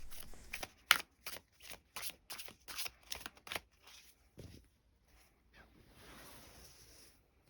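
Tarot cards shuffled and drawn, a quick series of crisp card flips and snaps up close, then softer sliding and a quiet airy hiss as the cards settle.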